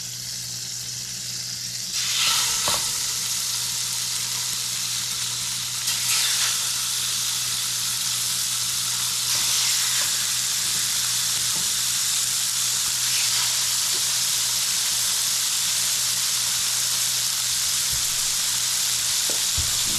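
Salmon sizzles steadily in a hot pan, a continuous hissing fry with a few brief clicks and bumps along the way, close and fairly loud with no talking.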